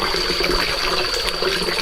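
A forest stream runs and splashes continuously, a steady close rushing flow with no voices.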